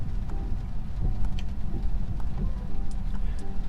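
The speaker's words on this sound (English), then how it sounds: "Yeah, it's been raining like this all day." Steady rain patters and hisses continuously in downtown Bellingham, Washington, with scattered heavier drops ticking on a Tesla throughout; no voices.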